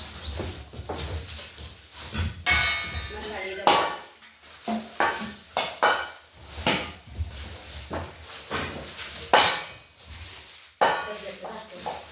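Newly received cooking pots and lids clatter and knock in bursts of sharp metallic handling, with a voice talking over and between the clanks.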